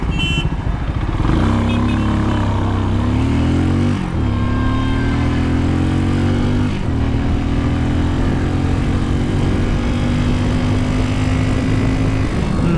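A QJ SRC 500 motorcycle engine runs steadily while riding, a loud close thumping drone rising in pitch as it accelerates through gear changes, with no talk over it.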